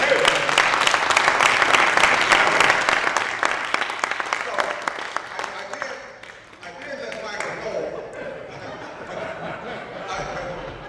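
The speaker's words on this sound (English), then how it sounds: "let's give him a round of applause just for that" An audience at a prostate cancer summit applauds an NFL Hall of Famer, loud dense clapping for about six seconds that then fades into chuckles, laughter and a voice speaking.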